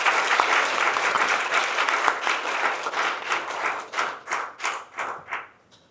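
An indoor audience at a natural sciences college's 50th anniversary ceremony at Seoul National University applauds to welcome the dean's opening address. The dense, steady clapping thins into scattered claps and fades out over about six seconds.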